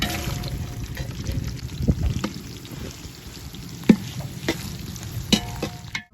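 Onions and green chillies frying in hot oil in a large pot of biryani for a crowd of workers, a continuous soft sizzle broken by several sharp stirring clinks and scrapes.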